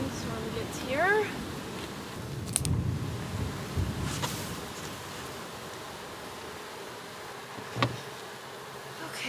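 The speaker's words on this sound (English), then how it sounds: "Not as many bees over here." Honey bees buzz around hive frames being checked in a garden as a rainstorm approaches, a soft, steady drone under outdoor noise, with a few louder sweeps as bees fly close and brief voice sounds.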